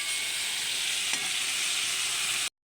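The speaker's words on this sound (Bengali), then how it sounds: "এখন আলু আর লাউ ডাঁটা একটু ভালো করে নাড়াচাড়া করে নেবো কাঁচা গন্ধ চলে যাওয়ার জন্য" Potatoes and bottle gourd stems sizzle and crackle as they are stirred and fried in a pan, a dense, steady hiss close up that cuts off abruptly, with no voices.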